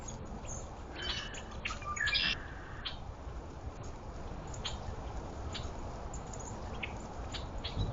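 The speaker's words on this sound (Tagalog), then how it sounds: "Makakatuwa talaga, ang daming ibon." Small birds at a feeder give faint, scattered chirps and tweets over steady background hiss.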